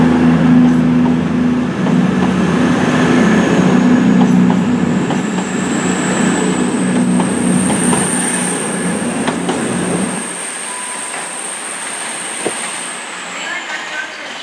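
Cross-country passenger train, a class 220 unit running from Birmingham New Street to Paignton, rumbling loudly past a lineside spot in Devon with a high wheel squeal, the low rumble cutting off sharply near the end as it recedes.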